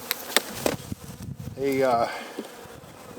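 A Russian-cross honeybee colony, crossed with Carniolan and feral stock, buzzes from an open hive, a steady droning hum that swells in the middle, with a few sharp clicks and a brief voice.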